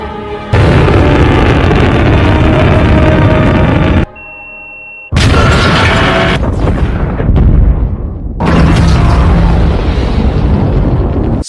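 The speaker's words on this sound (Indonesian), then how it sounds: "Setelah pesawatnya meledak dan emasnya bertebaran kemana-mana" An alien spaceship explodes in the film Cowboys and Aliens, with loud, sustained booming blasts and rumbling debris, broken by a brief quieter tonal moment before the roar resumes.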